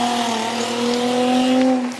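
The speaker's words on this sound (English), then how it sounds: "Let's hear what it sounds like on a single exit Tomei." A Nissan 350Z with a single-exit Tomei exhaust and its silencer removed, revving with a loud, raspy, steady drone close by that holds for about two seconds before easing off.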